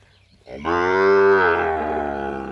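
A cow at a cattle farm in Cox's Bazar gives one long, close, deep moo that swells and then slowly fades, with no voices over it.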